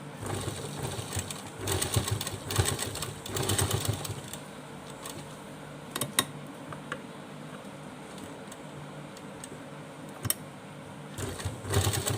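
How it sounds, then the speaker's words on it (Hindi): A sewing machine stitches fabric for a small Laddu Gopal doll dress, running in close bursts with short pauses between runs of stitching, loud and near, with no talk. "जहाँ पर हम इस तरह से इसको स्टिच कर देंगे"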